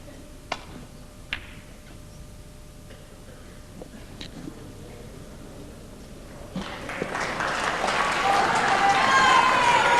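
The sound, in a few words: snooker audience applause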